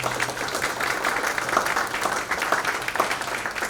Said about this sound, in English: Could we have a round of applause for our student instrumentalists?